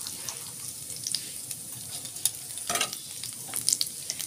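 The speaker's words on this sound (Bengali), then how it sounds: "জিরেটা একটু ভাজা হোক।" Whole cumin seeds and a split dried chilli frying in leftover prawn-frying oil make a close, crackling sizzle with bursts of sharp pops and a louder flare near the middle.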